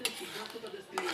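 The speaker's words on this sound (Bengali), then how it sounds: "এখন কিছুক্ষণ নাড়িয়ে নেবেন।" Dried shrimp stirred in a cooking pan, with soft, quick scrapes and clinks of a spoon against the pan and a faint sizzle underneath, someone talking over it throughout.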